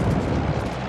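A heavy, rumbling blast of video-game artillery fire fills a single second, loud and close with a broad, sustained roar and no clear pauses.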